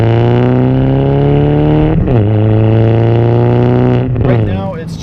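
A manual 2003 Saab 9-3 with a 3-inch flex-pipe-back exhaust, no muffler and only a resonator drones loudly and close at steady revs, with two quick throttle dips and recoveries before easing off.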